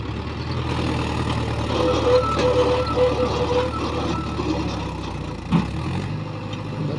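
A Mahindra 585 DI tractor hauling a heavy load of red mud, its diesel engine running in a steady, loud drone with a faint higher whine, a brief thump near the end.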